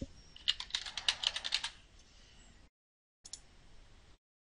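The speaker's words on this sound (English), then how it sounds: "To search the database, type your search terms in the search box." Quick bursts of keystrokes on a computer keyboard as search terms are entered, a rapid clatter for about two seconds, then a short second burst after a pause, fairly close and alone.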